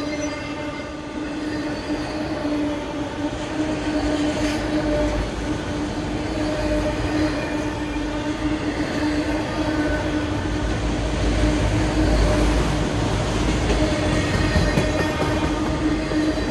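A freight train with CN and BNSF Hourglass locomotives rolls past, a steady loud rumble of wheels and engines with a sustained tonal hum and faint squeals throughout, no talk.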